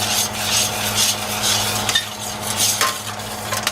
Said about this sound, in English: Just let this sit there and simmer for a minute.